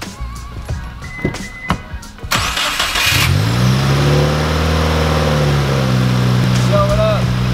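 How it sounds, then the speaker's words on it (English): A car engine cranks and fires after a few seconds of background voices and knocks. It then settles into a loud, steady, rumbling rev that holds close by, with small pitch shifts near the end. "I really just wanted to make a nice turbo flutter video for you guys"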